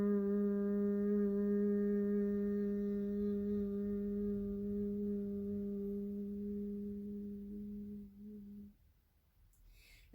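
A sustained humming chant voiced during a yoga breathing exercise, one long steady tone held on a single exhalation for about eight seconds before fading out.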